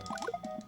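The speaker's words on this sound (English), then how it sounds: "Let the sounds of the water level" Watery drips and bubbly squishes from a water level in the video game JUMP, a short run of quick plinking droplets and gurgles at moderate volume.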